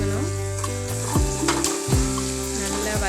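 Cluster beans sautéed with onion and curry leaves in a pan give a close, continuous sizzle, broken by a few clattering spatula strokes against the pan.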